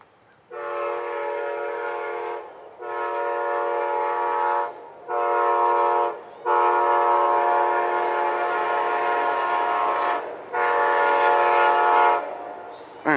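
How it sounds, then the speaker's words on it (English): An Amtrak 20 passenger train sounds its horn in a run of long, loud, steady blasts separated by short gaps, each a rich chord of harmonic tones, with no voices. "Man, that's a great horn."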